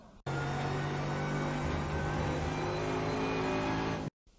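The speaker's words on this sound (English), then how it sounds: "Hit the throttle once the car points towards the curb and accelerate into the exit." A Mercedes-AMG GT3 race car in the iRacing simulator accelerates out of a corner at Interlagos, with a loud, steady engine drone building over about four seconds and cutting off abruptly, no voices.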